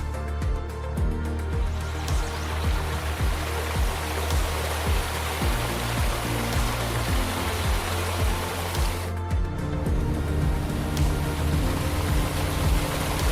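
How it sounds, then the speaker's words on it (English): Rhine Falls in Switzerland roaring at strong flow, a steady, loud broadband rush of falling water that fills the whole stretch without a break. "At this time, the entire waterfall becomes stronger and attracts many visitors"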